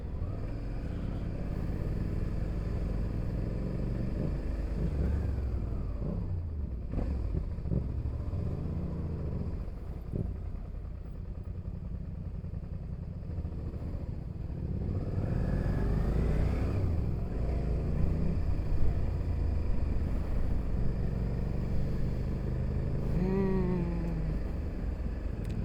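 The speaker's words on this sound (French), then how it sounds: "Elle fait un bon bruit la R7 derrière." Yamaha R7 motorcycle engine heard from behind, a steady low rumble that swells and fades over about 25 seconds in a mixed traffic scene, moderately loud and continuous.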